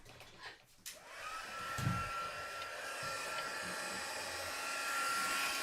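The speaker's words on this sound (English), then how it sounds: "we'll bring in the heat gun" Heat gun melting gold embossing powder on a craft project, starting with a click and spin-up, then a steady loud blowing whoosh with a faint whine, close by and continuous with no talking.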